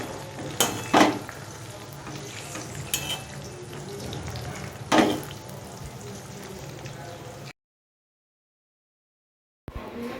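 Potol pur, stuffed pointed gourd, sizzles and fries in a pan with a low continuous crackle, broken by a few sharp clatters of stirring against the pan before the sound cuts out briefly.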